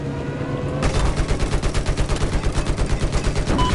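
Gunfire in the video game Battlefield 4, a loud burst of rapid automatic shots that starts about a second in and keeps a steady, even rhythm to the end.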